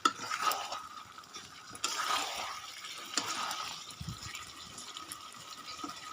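Hot water poured into a pot of chicken curry with potatoes, a soft splashing pour with a sharp clink and gurgles, fairly quiet and close, no talking.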